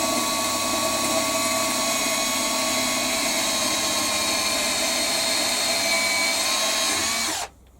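A power drill whines loudly and steadily up close for several seconds, drilling a 3.2 mm hole in metal on a Warco WM180 lathe, then cuts off abruptly near the end.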